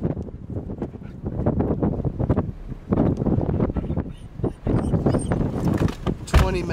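Strong hot wind in Death Valley buffeting the microphone, a steady loud roaring rumble with gusts that surge and fade throughout.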